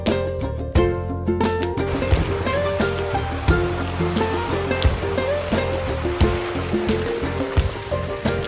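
Sea waves wash and surge steadily along the beach at Harne Bandar, Dapoli, a loud continuous roar of surf with sharper splashes breaking through at irregular moments.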